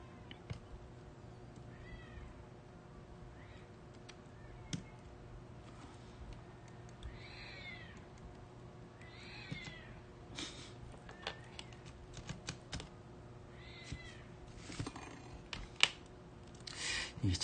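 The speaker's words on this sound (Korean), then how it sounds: "고양이들이 싸우고 있네요." Cats meow and yowl at intervals while fighting, the wavering cries fairly faint and somewhat distant against a quiet indoor background, with occasional clicks and taps nearby.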